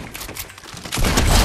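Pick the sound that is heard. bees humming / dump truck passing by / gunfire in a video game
gunfire in a video game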